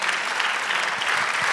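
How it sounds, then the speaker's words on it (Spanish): A church congregation applauds in a dense, even wash of clapping that stays loud and unbroken for the whole short stretch. "Dale aplauso al Señor"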